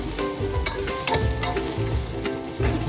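Onions fry in a pan for chicken biryani, a loud close sizzle with repeated stirring scrapes and light clatter at a quick, uneven rhythm, no one speaking.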